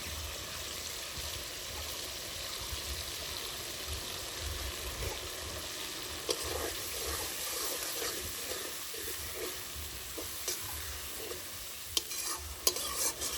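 Pointed gourd stir-fried with ground spice paste in a pan, a continuous close hiss and sizzle with constant stirring and scraping, and a few sharper knocks of the utensil near the end, with no voices.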